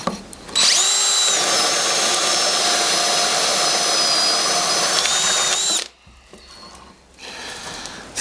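A power drill fitted with a DeWalt self-feed bit runs at full speed for about five seconds, a loud high whine that starts abruptly and stops, followed by quieter rustling.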